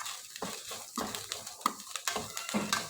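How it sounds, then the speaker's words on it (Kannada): Vegetables frying in a pan for masala idli, a soft sizzle with short scraping stir strokes every half second or so, close and fairly quiet. "ಇದು ಚೆನ್ನಾಗಿ ಫ್ರೈ ಆಗ್ತಾಯಿದೆ ನೋಡಿ"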